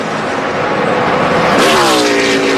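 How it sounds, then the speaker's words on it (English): NASCAR stock car engine at the 2011 Geico 400 easing off as the clutch goes in down the straightaway, a steady loud drone that suddenly drops into a falling, quieter tone. "he's pushing in that clutch down the straightaway. That engine's going quiet."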